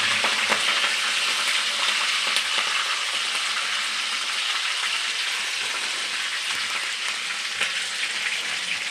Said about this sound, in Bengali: কাঁচা লঙ্কাগুলো একটু ভাজা ভাজা হলে